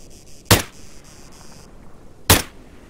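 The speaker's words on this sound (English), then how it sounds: "Well, I'm shooting at him, but I'm just not hitting" Two sharp gunshots in the Breaking Point video game, the first at about half a second and the second near two and a half seconds, each loud and close, with a faint rhythmic background hum.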